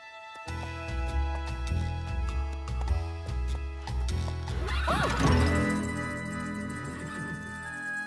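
A horse neighs loudly and shrilly over a steady instrumental music background, the whinny rising and trailing off.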